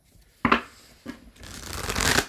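Tarot cards being shuffled by hand in a few quick bursts, a sharp riffle near the start, a shorter one after, then a longer, louder continuous shuffle, close and alone.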